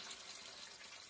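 Water drains out of a toilet tank during a fill valve replacement, a steady close hiss of rushing water with no break and no speech.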